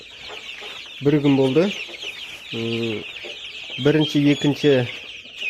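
Month-old chicks in a brooder give several bursts of harmonic clucking and chirping over a steady high background hum, while a person talks between the calls.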